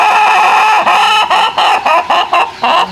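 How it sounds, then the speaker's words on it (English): Chickens at a city farm cluck and squawk loudly and close by in a rapid run of short, rhythmic calls, noisy in the morning with no talk. "Why are you making noise this morning?"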